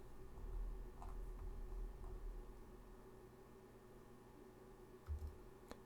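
A few faint, isolated key clicks from a computer keyboard, a single press of the M key, sound over a low, steady room hum with long quiet stretches between them.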